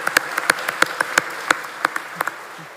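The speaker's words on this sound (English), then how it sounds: "let's welcome them into this family of Christ with a round of applause." Church congregation during a traditional worship service clapping in welcome; sparse, fairly distinct claps spaced irregularly, moderately close, with a low murmur beneath.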